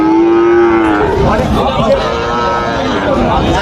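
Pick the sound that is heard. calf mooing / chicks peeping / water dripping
calf mooing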